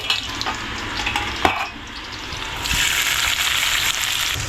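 Chopped onion frying in a pan while being stirred, with one sharp clink of the spoon early on and a bright sizzle that swells louder and steadier through the second half.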